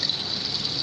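Dark wastewater from sewage flows through irrigation channels into a vegetable field, heard as a steady outdoor gush of moving water with no break.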